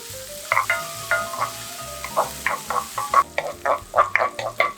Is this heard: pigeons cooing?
no